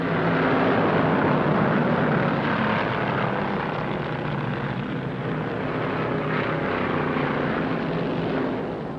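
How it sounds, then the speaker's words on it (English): Stock cars roar at full speed in the 1961 Daytona 500, led by a number 22 Pontiac with a big engine, a loud continuous engine drone that holds steady and swells slightly throughout. "Roberts in number 22 Pontiac showing the way as he winds up that big engine"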